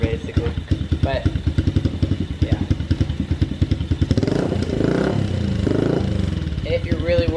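A Yamaha pit bike's small single-cylinder engine idles with a steady, rapid pulsing chug, close and fairly loud, then a rougher, busier stretch midway, with someone talking over much of it.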